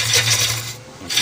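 A wood lathe hollowing a Balinese teak vase: a short, close rasping scrape of the tool against the spinning wood over a low motor hum.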